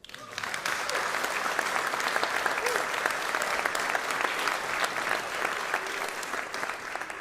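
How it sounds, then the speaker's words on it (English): An audience at the live reveal of the Nuna 12 solar car applauds, a steady, even wash of many hands clapping that holds for several seconds at moderate loudness. "I think that's worth an applause"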